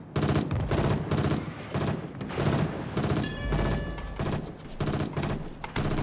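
Warship guns firing in World of Warships, rapid loud booming volleys in a dense rhythmic barrage with a deeper thud midway, close and continuous.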